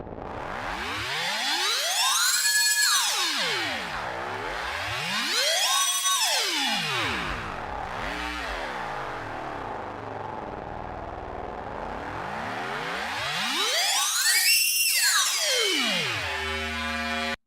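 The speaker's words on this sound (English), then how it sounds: "this is basically this is a FM riser" FM synthesizer riser sweeps rise and fall in pitch over and over, some long and swooping, others rapid, with a metallic, buzzing timbre and no voices.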